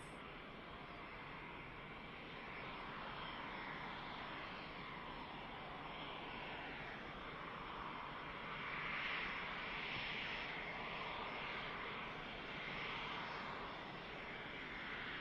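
An EasyJet airliner touching down at Manchester Airport after a short flight from Scotland, a steady broad engine roar held at a distance, swelling slightly midway and continuing without talk.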